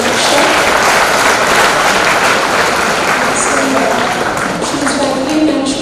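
Audience applause at a CA students' leadership conference, a steady, dense wash of clapping holding at full strength for about six seconds, with a few voices faintly mixed in near the end.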